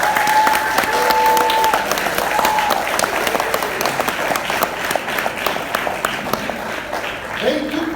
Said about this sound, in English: I would like everybody in the room to give a big round of applause.